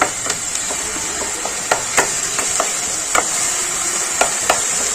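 Taro leaves sautéing with salt and turmeric in a pan, a steady soft sizzle broken by sharp scraping and tapping strokes of a spatula at irregular intervals, close and without speech.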